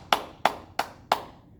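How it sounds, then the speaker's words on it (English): Small hands clapping together four times at an even, unhurried pace, each clap sharp and close with a short ringing decay, nothing else heard between them. "I can make them clap together."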